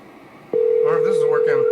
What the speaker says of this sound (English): Can you hear this? Can you hear the call?